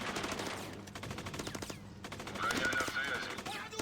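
Rattling machine gun bursts in the war video game MWM 2.0, steady rapid fire running throughout, with someone speaking Russian over the shooting.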